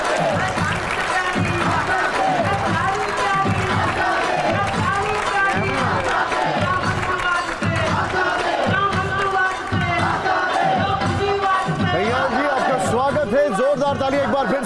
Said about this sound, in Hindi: ताली एक बार फिर से कन्हैया जी के लिए